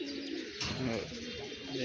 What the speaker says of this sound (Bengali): এই যে আমাদের কবুতরগুলা